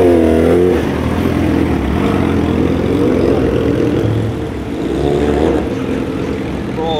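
Loud, steady engine roar from turbocharged Porsches at a car gathering, rising and falling in revs over seven seconds with a brief dip near the end.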